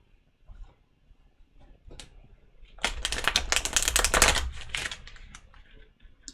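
Tarot cards are shuffled in a quick riffling burst, preceded by a few soft taps and rustles, close and fairly quiet.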